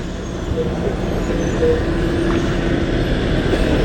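A Mumbai–Malvan Shivshahi bus rolls in on a muddy roadside near Sangameshwar market in Ratnagiri, its loud, steady engine and road rumble filling the scene with dense traffic noise.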